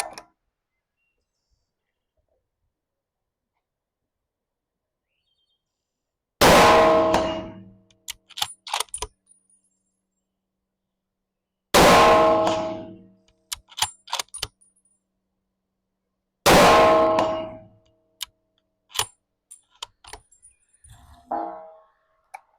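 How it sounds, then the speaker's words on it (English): A .300 Win Mag rifle fires three times at an 8-inch steel gong 200 yards away; each shot is a sharp loud crack followed by a short ringing tail, with quiet gaps and a few faint clicks between. "Got that 8-inch gong out there at 200 yards, so we'll shoot that."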